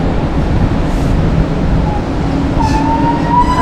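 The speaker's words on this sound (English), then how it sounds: "Second westbound train of the day, no eastbound." A Norfolk Southern freight train rolls past close by, making a loud, continuous rumble of wheels on rail with faint squeals.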